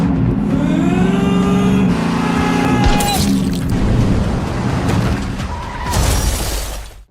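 A car revs and its tires squeal in a movie car chase, with a harsh crash or shattering burst midway and another screech near the end, loud and close throughout.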